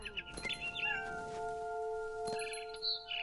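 A cat meows several times in the video game Fortnite, short rising and falling tonal cries in quick succession over a faint steady hum with thin game tones, fairly quiet and without any voice.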